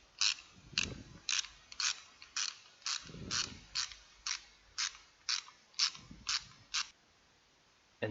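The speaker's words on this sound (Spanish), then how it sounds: "Cogemos la carraca con la extensión y la llave de cubo correspondiente para esta bujía y la introducimos para desapretar totalmente la primera de las bujías." A ratchet with an extension and socket works loose a car's spark plug, giving a quick run of crisp metallic clicks close up, broken by brief pauses between strokes.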